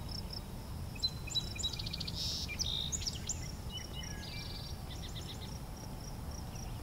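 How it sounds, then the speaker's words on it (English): Distant wood thrush song drifts in with clear, flutelike phrases over a steady low outdoor hum and faint insect buzz. "As you might hear, I have a wood thrush pretty far off."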